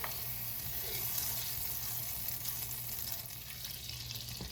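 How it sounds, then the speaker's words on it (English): Butter melting in a skillet over medium-high heat gives a soft, steady sizzle and hiss that runs unbroken and fairly faint throughout, with no voices. "To my skillet over a medium-high heat, I'm going to start out by adding in my butter."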